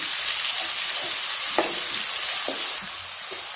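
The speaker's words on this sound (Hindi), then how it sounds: "कढ़ाई में ऑयल गरम करेंगे और इसमें शामिल कर देंगे लहसुन का पेस्ट, और इसको हल्का सा फ्राई कर लेंगे।" Garlic paste fries in hot oil in a karahi with a steady, loud broadband sizzle, punctuated by a few brief spoon scrapes and taps; no voices.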